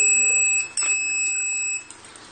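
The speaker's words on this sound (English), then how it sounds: "buzzer is trigger for the indication of the state change" An electronic buzzer on a microcontroller soil moisture irrigation controller sounds a steady, piercing high tone lasting about two seconds, close and loud, cutting off abruptly amid a quiet room.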